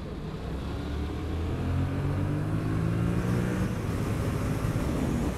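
A 2021 Yamaha MT-07 motorcycle accelerating hard, its engine note climbing in steady rising sweeps through aggressive upshifts, loud and close over a constant rush of wind.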